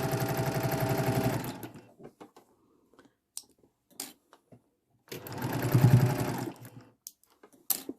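A sewing machine runs in two close, steady bursts, stitching a strip of fabric for a quilt-style garden path block, with soft handling clicks and rustles in the quiet gap between them.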